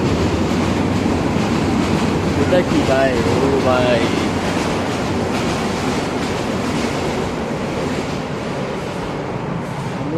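A train passes on a railway close by, making a loud, continuous rumble with clattering wheel noise that holds for the whole stretch. A voice calls out over it briefly.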